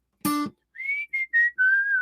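A person whistling in imitation of a bird: a short honk-like note, then a few clear whistled phrases, sliding tones broken into short bursts like birdsong, close and alone.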